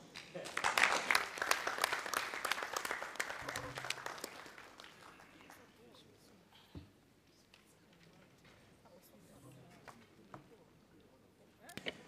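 A crowd claps loudly for a few seconds at a closing ceremony in Kampala, the applause thinning to scattered claps, with a voice talking faintly in the background.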